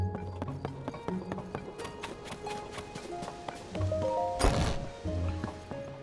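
Hooves of a golden horse in the video game Zelda: Tears of the Kingdom clop in a quick repeated rhythm over game music, fairly faint, with a louder burst of rustling movement near the end.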